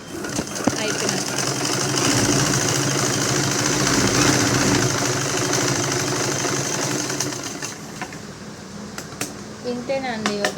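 A sewing machine runs steadily while top stitching the lining joints of a blouse, a loud continuous mechanical whir and rattle that stops near the end, followed by a few clicks and a voice speaking.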